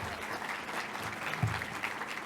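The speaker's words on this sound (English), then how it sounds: "Oh yeah, you're clapping now" An audience at a conference closing plenary claps steadily, a soft, even patter of applause with no voices over it.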